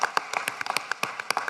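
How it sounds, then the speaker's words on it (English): Applause for new facilitators at a congress session, a short burst of sparse, distinct hand claps at moderate distance, with no talk over it. "Applause for the new facilitators of the PPST program."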